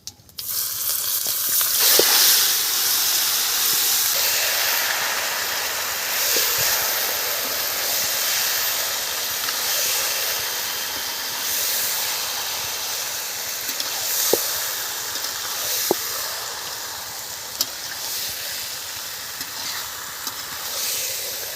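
Chicken meat in hot oil with cardamom, clove and cinnamon for chicken kosha, giving a loud steady sizzle and hiss that runs throughout, with a few small clicks and taps from cooking.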